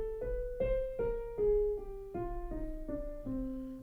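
A minor scale with lowered sixth and seventh degrees moves stepwise through about nine sustained pitched notes at an even pace, played alone at moderate-low volume over a faint low hum.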